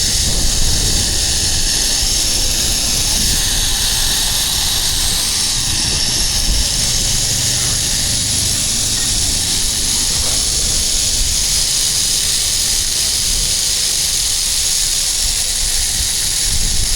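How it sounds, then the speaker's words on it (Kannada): A passenger airplane's jet engine gives off a loud, continuous roaring hiss that holds steady and unbroken throughout, with no voices. "ಇವಾಗ ನಾವು ಹೋಗ್ತಿರೋದು ಈ ಪ್ಲೇನ್."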